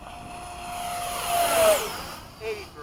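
Radio-controlled model F-16 jet flying slowly past at Bayside, its engine whine rising and then sweeping down in pitch as it passes, moderately loud, followed by a brief fainter tone.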